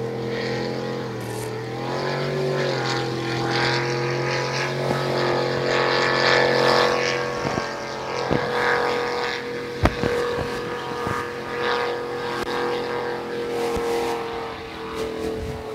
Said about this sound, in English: pro-charged, unlimited displacement boat,